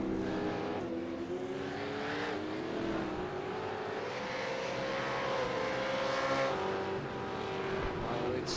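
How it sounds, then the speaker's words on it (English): V8 supercars racing in a W12 Sprint Series event, a continuous loud engine roar with rising and falling pitch as the cars accelerate and pass, steady throughout with no pauses. "These V8 supercars, of course, give us some amazing sound to listen to."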